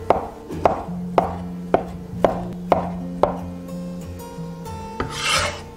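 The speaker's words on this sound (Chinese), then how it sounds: "准备1勺豆豉，稍微给它切碎一点。" A kitchen knife chops a spoonful of fermented black beans for an oyster casserole, with about seven sharp, evenly spaced chops on a board. They are close and clear, followed by a brief rustle and scrape as the pieces are gathered.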